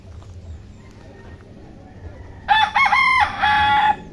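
A rooster crows loudly and close by, a long harmonic call broken into a few segments, over low background rustle and faint distant clucking.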